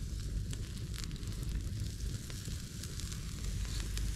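Sausage sizzling over an outdoor campfire in a forest, a steady dense crackle and hiss running continuously at moderate level with occasional sharper pops.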